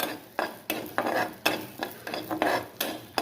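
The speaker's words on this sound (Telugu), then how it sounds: "ఇది నూనెలో ఈ రెండు బాగా ఫ్రై అవ్వాలి" Whole garam masala spices frying in butter, with rhythmic scraping strokes of a spoon stirring the pan every half second or so over a soft sizzle, close and moderately quiet.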